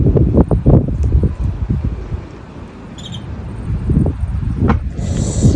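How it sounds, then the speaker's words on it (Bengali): A cold wind blows ahead of an approaching storm in Italy, with loud gusty rushes and rustling buffeting the microphone in uneven bursts that ease midway, then swell again. "ঠান্ডা বাতাস"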